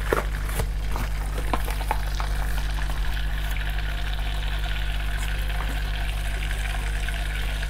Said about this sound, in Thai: ใส่แป้งลงไปแล้วก็คนด้วยนะคะ